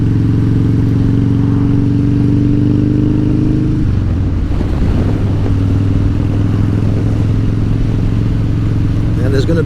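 A Harley-Davidson Dyna motorcycle with a stock setup idles loudly and close, then its engine note changes as the throttle is worked around the midpoint, with a steady low rumble that continues throughout.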